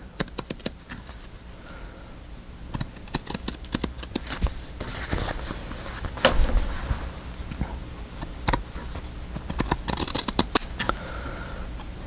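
Scissors snip through paper and fabric on a journal page, giving scattered close crisp cuts and rustling over several seconds with no talking.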